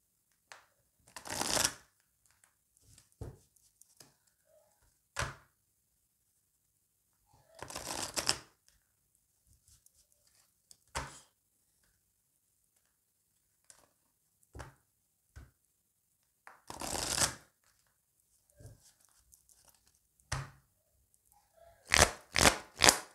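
Oracle cards being shuffled and dealt out, with several bursts of brisk riffling separated by quiet gaps and single sharp taps as cards land on a surface, ending in a quick cluster of placements.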